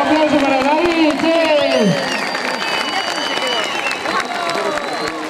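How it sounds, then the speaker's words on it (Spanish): A festival crowd claps and cheers at a bullfighting event for the Virgin of the Assumption in Casabindo. Steady applause runs throughout, with loud voices shouting over it. "Aplausos para David"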